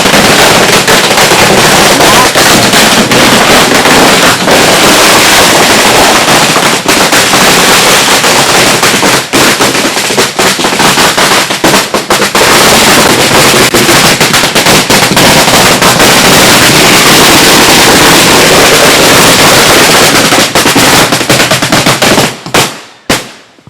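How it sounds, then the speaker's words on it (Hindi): Dense, relentless crackling of firecrackers bursting nonstop at close range during a celebration in Ranchi, loud and chaotic, cutting off abruptly near the end. "पटाखों का शोर है जो आप सुन पा रहे हैं"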